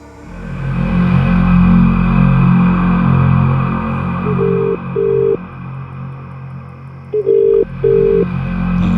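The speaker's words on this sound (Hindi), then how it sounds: "हिना अभी फोन नहीं उठा रही है यार" A phone line rings out with paired electronic ring tones repeating twice, over a steady low hum, with no one picking up.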